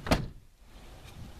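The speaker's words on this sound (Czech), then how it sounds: "To se takhle klepe okno u každý multiply, když zavřeš dveře." Door of a Fiat Multipla race car shut, with its loose window rattling: one sharp, close thud followed by a brief faint rattle and a soft knock, quiet otherwise.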